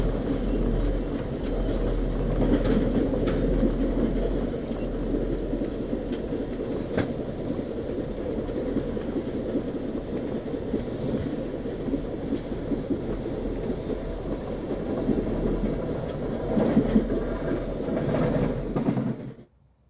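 Amtrak's Coast Starlight passenger train rolls along the tracks on its northbound run, a steady, loud rumble and rattle of the cars that holds for the whole stretch before cutting off abruptly at the end.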